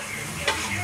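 Garlic fried rice (sinangag) sizzles faintly in a pan, with a soft steady frying hiss and a brief stirring scrape partway through.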